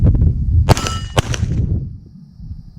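Pistol shots ring off steel targets in a Steel Challenge shooting drill, two sharp metallic clangs in quick succession, loud and close, each leaving a short ringing tail.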